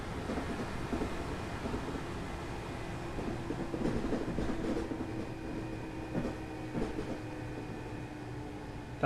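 Class 385 electric train running at speed in the Train Sim World 3 game with a sound mod: steady rumbling rail noise with rhythmic clatter and a faint whine throughout, no talking.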